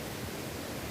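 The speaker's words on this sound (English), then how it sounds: "I can really hear the water roaring through here." Water roaring along the Ottawa Temiskaming Highland Trail between Thorne and Opimika, a dense steady rushing hiss that stays loud and unbroken through the brief moment, with no voices.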